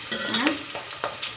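Green chillies are stirred into sizzling onions for a fish curry, a few quick spatula scrapes over a soft frying hiss close to the pan.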